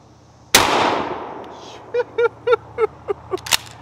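A 12-gauge shotgun fires a single very loud MagnaLens shell, a sharp close blast that decays over about a second, followed by a quick run of light metallic clicks and clacks from the action.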